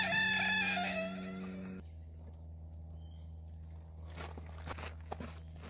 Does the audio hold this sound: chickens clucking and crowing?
yes